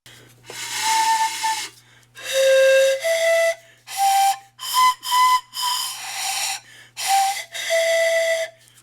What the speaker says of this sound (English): it's a pan flute. Pan flutes, handmade.